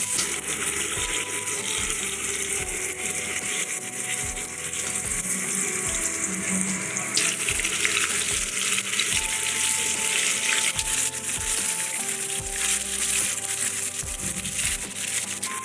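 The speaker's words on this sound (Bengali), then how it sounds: "মাছটা আমি বেশি কড়া করে ভাজবো না।" Katla fish pieces frying in hot oil: a loud, steady, close hiss and sizzle that holds for the whole stretch, with faint rhythmic clinks beneath and no talking.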